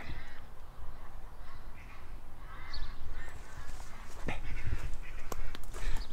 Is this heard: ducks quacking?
yes